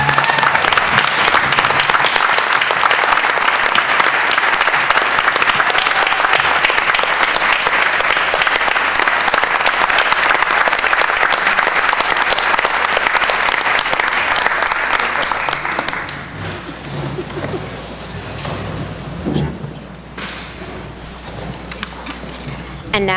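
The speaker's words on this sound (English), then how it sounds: "How about a nice round of applause for Susanna Kelly?" Audience at a Hoboken board of education meeting claps in sustained, dense applause for about sixteen seconds, then it thins out into scattered claps and murmuring room noise.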